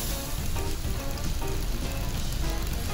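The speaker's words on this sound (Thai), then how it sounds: "ผัดให้เข้ากันจากนั้นก็ใส่ใบโหระพาค่ะ" White clams stir-fried with basil leaves in a hot pan give a steady, dense sizzle that holds close and loud throughout, with no voices.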